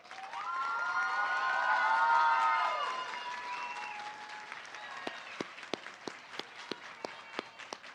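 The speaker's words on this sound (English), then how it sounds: "Please give them a round of applause." An audience at a nursing college graduation ceremony applauds the faculty and staff. Loud, dense clapping swells, then thins out into a few scattered, distinct claps near the end.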